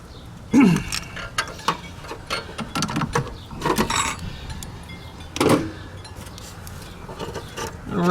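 A ratchet tightening an upstream oxygen sensor on a 2012 Hyundai Accent, with scattered metallic clicking and clinking in short irregular bursts, fairly close and moderately loud.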